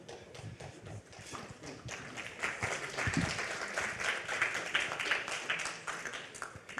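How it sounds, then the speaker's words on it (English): Audience at a European capital markets conference applauding after a presentation, with distinct claps standing out from a sparser group, uneven and rising in intensity partway through, moderately close in a hall. "Even applause. Very good."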